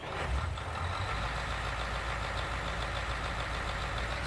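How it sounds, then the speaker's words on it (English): A Fendt tractor engine from the Farming Simulator 19 video game runs at a steady idle, with a constant low rumble and mechanical hum heard up close throughout, no talking over it. "grab the Fendt tractor"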